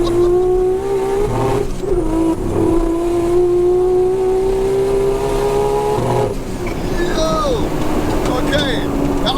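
Nissan R34 GT-R launching on a quarter-mile run, heard from inside: the engine revs hard and climbs steadily in pitch through the gears, a brief shift break midway, with voices talking over it.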